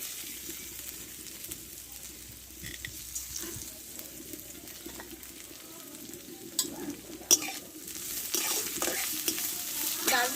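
Washed, drained mung dal frying in mustard oil while being stirred, a low sizzle under scraping and clinking of the utensil, with a few sharper knocks.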